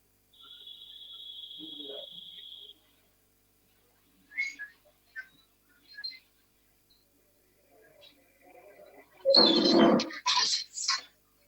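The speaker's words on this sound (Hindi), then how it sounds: "सीटी बज रही है" Whistle blowing during a Kanpur police encounter news segment, a steady high tone held for about two seconds at the start, followed by scattered chirps, voices and a loud burst of noise near the end.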